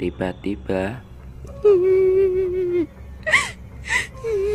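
An eerie, drawn-out wailing cry, like a ghostly sob, rises after a few spoken words in a horror tale about a night hike on Mount Muria's Puncak 29 peak. Shorter whimpering sounds follow it.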